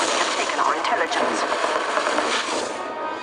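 Steady, dense gunfire in the Team Fortress 2 video game, loud and continuous with overlapping shots, while a voice talks over the action.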